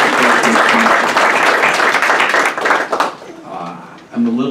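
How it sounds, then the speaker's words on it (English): Audience applause at a school district board of education meeting, a loud, dense burst of clapping for about three seconds that fades to scattered claps as a voice resumes speaking. "we need to give them a round of applause."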